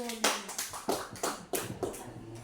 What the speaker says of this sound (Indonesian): Tepuk tangan dulu Ibu.